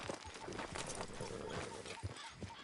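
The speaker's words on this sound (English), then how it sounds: "Damn horse acting up on me." Horse hooves clip-clop in a Red Dead Redemption 2 game scene as a restless horse acts up, with a quick, uneven trot of hoofbeats over ambient game sound and a snort or whinny mixed in.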